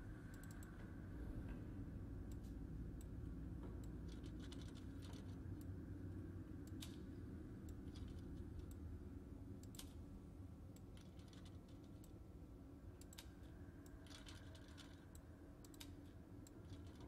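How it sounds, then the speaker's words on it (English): Computer keyboard typing: light, scattered key clicks in short bursts and single taps over a steady low hum, faint and fairly close, with no talking. "Let's try typing it."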